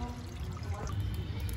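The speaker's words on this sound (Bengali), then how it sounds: "আমি কড়াতে দিয়ে দেবো জল" Water poured into a kadai while making rasmalai, a steady low splashing pour running close and continuous with no clear breaks.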